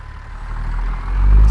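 A tuned 800 HP Cat C16 diesel in a Peterbilt truck with 8-inch straight pipes runs close by, a deep low rumble swelling louder toward the end of the short stretch.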